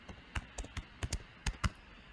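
Typing on a computer keyboard while entering text into a Django app settings file: about ten irregular, crisp key taps in small bursts, close and fairly quiet, with no talking.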